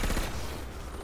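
A blaster in the video game Warface firing in automatic mode, a loud rapid rattling burst at the start that decays into a rumbling fade over about a second.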